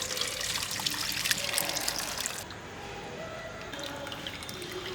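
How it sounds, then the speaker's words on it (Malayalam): Boiled grape juice poured slowly into a container, a steady liquid trickle and splash that softens partway through and continues quietly. "നമ്മൾ തിളപ്പിച്ച് വെച്ചേക്കുന്ന നമ്മുടെ ഗ്രേപ്പ് ജ്യൂസ് ആദ്യം ഇതിനകത്തോട്ടൊന്ന് പതുക്കെ ഒഴിച്ചു കൊടുക്കാം."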